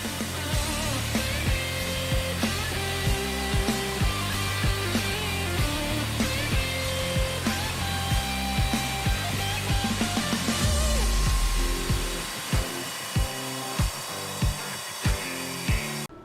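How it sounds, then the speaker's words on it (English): A robotic cotton buffing wheel polishes a fire extinguisher with rouge compound, a steady loud whirring drone with grinding friction throughout, later breaking into a series of separate thumping contacts as the wheel meets the part. "The Formax Rouge buffing compound helped polish the part to a high shine"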